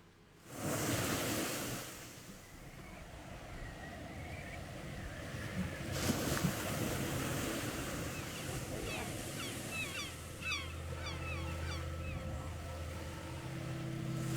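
Steady rushing ocean surf with waves washing in continuously in the video game Life is Strange, joined later by faint high seagull cries and a low droning hum.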